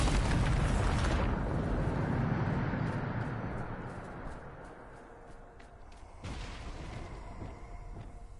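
A loud Bombarda spell blast from Hogwarts Legacy bursts at the start with a heavy roar, then rumbles and fades over several seconds before a second, smaller burst kicks up near the end.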